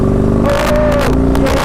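A Yamaha Raider 1900cc motorcycle, a big two-cylinder engine of about a liter per cylinder, gives a short, loud, close rev that rises and then eases off.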